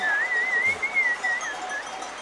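A person whistles a flowing Turkish folk tune, clear and fairly close, with smooth sliding pitch against a faint background hiss.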